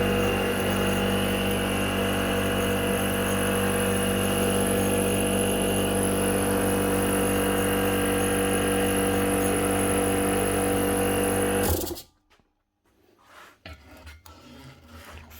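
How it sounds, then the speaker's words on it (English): A small Draper air compressor runs with a steady, loud, raspy mechanical drone for about twelve seconds, then cuts off abruptly, leaving quiet room noise. "Right, another wee Draper compressor. This one is running"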